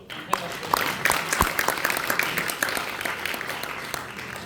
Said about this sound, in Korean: 두 분께 힘찬 박수